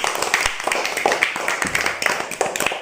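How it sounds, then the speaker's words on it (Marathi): A burst of quick, uneven hand claps from a few people, close by and lively, lasting a few seconds. "ओ व्हेरी गुड बघा जोरा टाळ्या जो स्वरासाठी"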